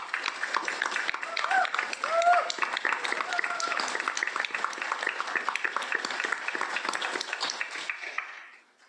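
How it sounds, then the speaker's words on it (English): An audience applauds and cheers for Disney workers at a post-screening panel for a documentary film, a dense, continuous wash of clapping that lasts several seconds before fading at the end. "And let's give them a big round of applause."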